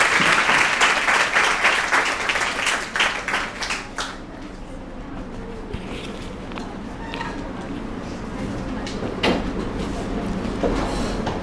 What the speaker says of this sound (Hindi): सभी लोग तालियों से सर का स्वागत करेंगे।